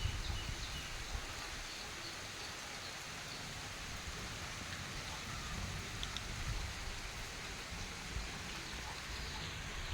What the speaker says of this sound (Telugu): కనిపించిందో లేదో కానీ వర్షం అయితే పడుతుందన్నమాట.